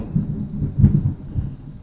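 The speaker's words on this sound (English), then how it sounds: "wow, that sounds like gunfire in the background. It's thunder." Distant thunder rumbles low and soft, swelling to a deeper roll near the middle before fading, with no voices over it.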